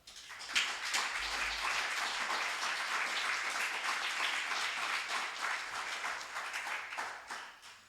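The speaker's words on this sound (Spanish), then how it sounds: "Si le das un aplauso al Señor." A church congregation claps together during a worship service, steady sustained applause filling the room for several seconds before fading.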